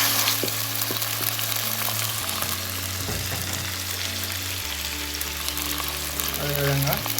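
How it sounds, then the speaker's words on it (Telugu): Ginger garlic paste frying in a pan for a Saudi-style murgh masalam: a steady, close sizzle with occasional stirring scrapes and a low background hum. "అల్లం వెల్లుల్లి పేస్ట్ తక్కువ వాసన పోయేంత వరకు దీంట్లో ఫ్రై చేసుకోవాలి"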